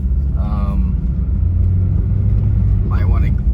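Old gasoline makes an Acura RSX engine idle with a rough, sputtering note: a steady, loud low rumble close by, with a brief higher tone near the start and another near the end.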